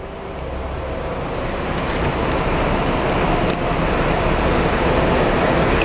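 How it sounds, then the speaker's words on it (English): A home air conditioner runs steadily in the background on a hot day, a constant broadband whooshing hum that holds at an even level throughout, with no talking. "It's my air conditioner. I got it on because it's hot today."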